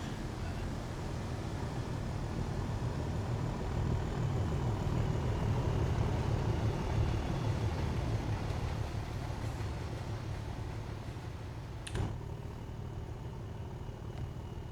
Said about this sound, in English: There's our first AI train.